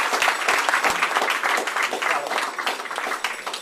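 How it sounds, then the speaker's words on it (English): An audience applauds for a quarterback at a football coach's Thursday night show, steady dense clapping filling the room throughout with no speech over it. "So I think Zach needs a little round of applause right"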